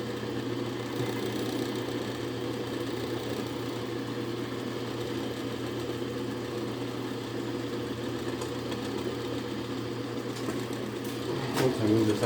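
A machine cutting the first teeth of a bevel gear gives a continuous, steady mechanical hum and drone with a low vibrating tone, running evenly throughout at moderate loudness, with a brief rattling change near the end.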